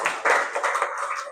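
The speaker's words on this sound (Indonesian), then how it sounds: "kita kasih tepuk tangan buat kelompok 2" A small group in a classroom-style presentation session claps briefly for a team. A short burst of hand claps sounds close and fairly light, with no talk over it.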